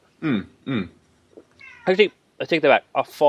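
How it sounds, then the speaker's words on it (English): A cat shut out of a room meows twice near the start, then again between bits of nearby talk. "That's my cat in the background because he's been shut out of a room"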